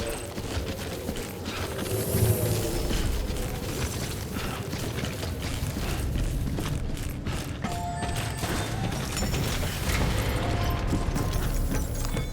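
Suit decontamination machinery in the video game Death Stranding runs as a steady, dense mechanical whir with clanks and ratcheting clicks, holding a constant level for about twelve seconds with no voices.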